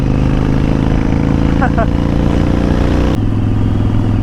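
Motorcycle riding home on a hot day, a loud steady engine drone with heavy wind rush throughout and a gear shift near the end, someone talking over it.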